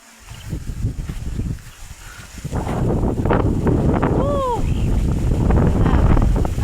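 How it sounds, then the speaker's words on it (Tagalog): Strong wind on a walk out to the farm fields buffets the microphone with a loud, continuous roar, with a short whistling tone and possible voices underneath. "Lakas ang hangin na"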